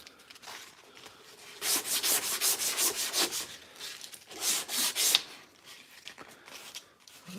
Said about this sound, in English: we might have to step back on the grinder just to get that